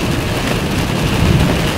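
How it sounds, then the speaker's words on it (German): Steady, loud rain at Uluru, Australia, hisses and patters as a dense wash of noise, close by, without any talking. "guck mal, wie direkt das regnet"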